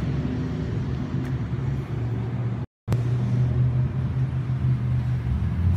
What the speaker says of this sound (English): as you see the cars whizzing by, this is rush hour